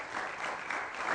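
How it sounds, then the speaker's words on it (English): Studio audience on a health talk show clapping steadily, a dense close wash of applause filling the short moment with no voices over it. "Please, a round of applause for Mrs. Okonlawon."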